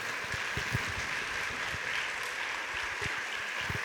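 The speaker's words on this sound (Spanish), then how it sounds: "Lo recibimos con un fuerte aplauso." An audience in a minor seminary welcomes Monseñor Jorge Carlos with applause: a steady wash of clapping, fairly faint and distant, with a few sharper individual claps standing out.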